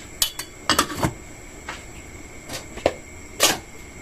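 A metal lid set onto a pot of pork sinigang, a cluster of clinks and clatters as it is handled and settled, followed by a few scattered sharper metallic knocks, close and clear.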